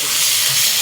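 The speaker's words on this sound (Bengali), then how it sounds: "তেলে করলা বাটাটা ফেলে দেব" Bitter gourd paste hits hot oil in a pan, producing a loud, steady hiss and sizzle that stays even throughout.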